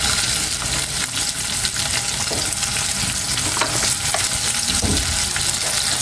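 Chopped onion fries in a pan with a dense, steady, loud sizzle and crackle throughout, touched by faint scraping as it is stirred.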